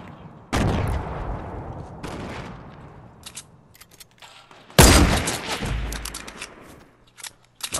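Loud sniper rifle shots in Fortnite Battle Royale, two heavy cracks with booming tails a few seconds apart, surrounded by smaller clicks and game sounds.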